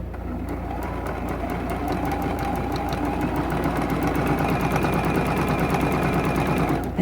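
Sewing machine stitching T-shirt quilt binding strips together, a loud, continuous rapid mechanical whir with fast rhythmic needle ticking, steady throughout without talk.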